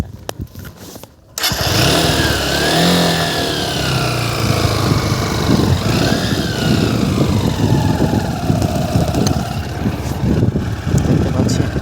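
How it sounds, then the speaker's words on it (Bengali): Motorcycle ridden across sand on a riverbank char, the engine kicking in after a short quiet start and then droning loudly and steadily with shifting revs. "বালুর মধ্যে বাইক চালানো খুব কষ্ট"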